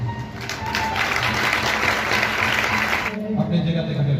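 A church congregation claps together at a prophecy and deliverance service, a steady burst of applause mixed with voices that breaks off near the end as someone speaks.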